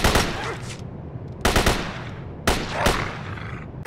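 AK assault rifle fire in the video game Anomaly Zone: loud, close bursts of rapid automatic shots, three volleys separated by short pauses.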